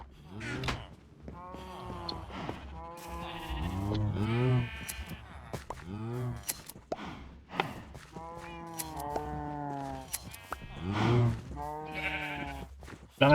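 Grey sheep in Minecraft bleat repeatedly, overlapping calls in an irregular rhythm, close and fairly loud, with no one talking.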